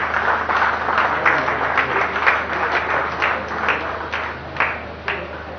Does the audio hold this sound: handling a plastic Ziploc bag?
no